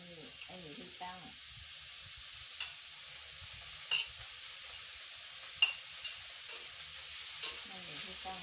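Fried rice with naem being stir-fried in a pan, a steady hiss of frying under repeated scraping and tapping strokes of a spatula, with brief bits of voice at the start and end.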